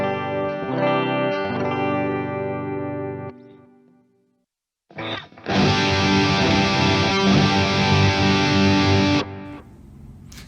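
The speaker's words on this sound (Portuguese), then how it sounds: "o som muda muito quando a gente tem a distorção ou quando a gente tem o que a gente chama de som limpo" An electric guitar plays a few clean-toned notes and chords, then goes quiet for a moment before a sustained, heavily distorted chord rings out loudly and cuts off, with no talking over it.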